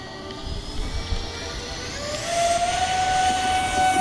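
An RC plane takes off and flies, its motor giving a steady, rising whine that climbs in pitch as it gets airborne, heard fairly close outdoors without any talk.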